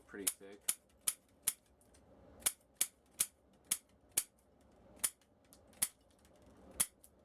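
EDC scissors snap through a thick 6-inch zip tie again and again, each cut a crisp, sharp click. About fourteen clicks come at an uneven pace, close and distinct, with faint voice sounds at the very start.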